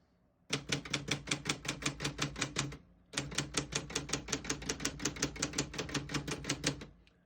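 Keys striking on a Brother Golden Shield vintage portable typewriter, close and loud in two fast, even runs of sharp clacks separated by a brief pause, with no talking.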